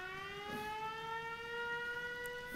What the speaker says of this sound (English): it sets off the siren at the gate